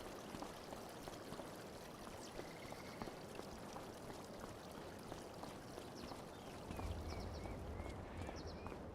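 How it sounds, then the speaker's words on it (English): Steady rushing, splashing water from a waterfall beside rock cliffs in Farming Simulator 25, a continuous broadband wash at moderate level that swells slightly toward the end, with no talk over it. "Nice area nestled in close to the rock cliffs like that with waterfalls"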